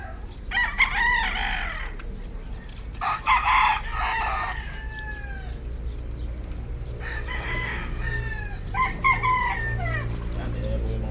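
Bulik gamefowl roosters crow repeatedly, several loud drawn-out calls from nearby and farther off, with clucking and a low steady background hum between them.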